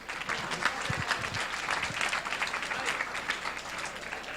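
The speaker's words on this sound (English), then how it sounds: "Round of applause." Steady, moderately faint audience applause at a hackathon closing ceremony, continuous clapping with a few low thumps near the start.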